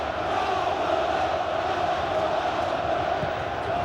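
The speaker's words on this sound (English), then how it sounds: "There's at least a little bit of reaction from the crowd now." Football crowd at a Championship playoff semi-final first leg between Burnley and Reading, a steady broad roar of many voices swelling slightly in reaction, loud and continuous throughout.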